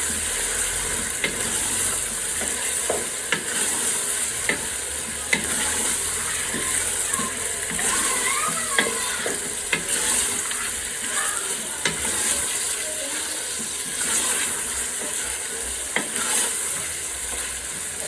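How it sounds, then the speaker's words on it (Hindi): Beef fries in a pot for biryani with a constant sizzling hiss, punctuated by regular clinks and scrapes of a spoon stirring. "इसे हम अच्छी तरीके से फ्राई कर लेते हैं।"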